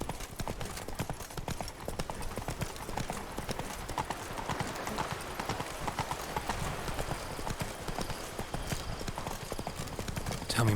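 Horse hooves clip-clopping in The Witcher 3: Blood and Wine, a steady brisk rhythm of close, continuous hoof strikes lasting throughout, with faint voices in the background.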